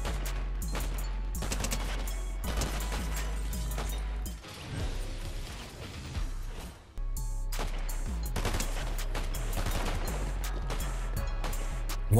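Gunfire in the video game Fortnite, dense bursts of rapid automatic shots and single cracks firing almost continuously, loud and close, with a brief lull midway before the shooting resumes.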